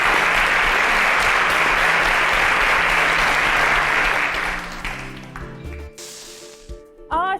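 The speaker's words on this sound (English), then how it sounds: "A round of applause for them, please." A studio audience at an innovation showcase breaks into loud, dense applause for the contestants, holding steady for about five seconds before thinning out and giving way to quieter studio sounds and a brief musical tone.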